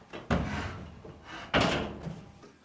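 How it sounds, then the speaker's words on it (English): A clothes dryer is lowered back onto the floor after a wood block is removed, giving two heavy thuds about a second apart, close and fairly loud, each followed by a short rattle. "Remove the wood block and set the dryer back on the ground."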